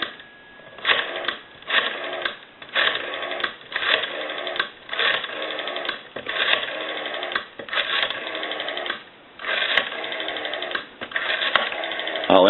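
A Western Electric 302 rotary dial telephone being dialed through a series of digits, each one a burst of rapid mechanical clicks as the dial spins back, separated by short pauses, close and clear over a faint line tone.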